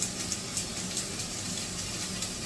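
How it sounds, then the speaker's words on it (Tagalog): Water trickles steadily into a pan of chopped Chinese cabbage stems, a soft, continuous pour with a faint splashy hiss and no talking. "Ilalagay ko siya ng tubig ng konti."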